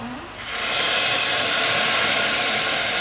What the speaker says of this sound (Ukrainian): Вина додаємо так, щоб покрило рис.